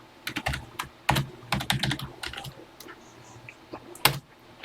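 Quick, uneven clacking of keys as a BASIC program is typed on a TI-99/4A home computer keyboard, close and clear, with short pauses between runs of keystrokes and no talking.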